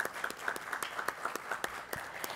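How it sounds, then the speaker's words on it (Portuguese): A small audience at an award ceremony claps, sparse distinct handclaps in an uneven rhythm that come across as fairly quiet and thin rather than a full ovation. "Eu peço uma salva de palmas para o Pauliceia."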